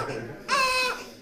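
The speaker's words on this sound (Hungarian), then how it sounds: "Hangosan sírva tiltakozott az őt meglátogató emberek miatt." A newborn baby in a hospital lets out one loud, short wailing cry that follows a moment of muffled background voices and fades quickly.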